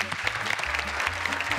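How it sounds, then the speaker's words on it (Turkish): A studio audience gives a short burst of dense clapping, close and continuous and without pause, with a faint murmur of voices underneath. "Kocaman alkış Aliya Rana için."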